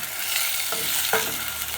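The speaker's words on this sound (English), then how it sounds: "After adding the onions, of course, we stir and wait for them to brown." Onions frying in a pan for a cabbage stir fry, a continuous close sizzle with a couple of sharp clinks of the stirring utensil against the pan.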